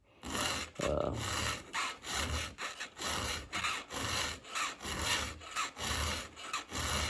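Hand file rasping a STIHL and Holzfforma chainsaw chain, steady rhythmic strokes roughly twice a second, close and fairly loud with no talking.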